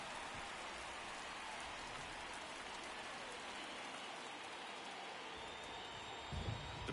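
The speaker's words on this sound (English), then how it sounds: "the field's not going to be able to hold up if the rain gets any worse than this" Steady rain hisses down on a baseball field in MLB The Show 23 as a constant, even wash of drops, moderately quiet and uninterrupted throughout.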